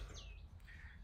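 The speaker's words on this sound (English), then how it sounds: "Hear those birds? Those will wake me up in the morning." Birds among redwoods at a campsite give faint chirps and short whistled calls over a low outdoor rumble, with a couple of calls in about a second.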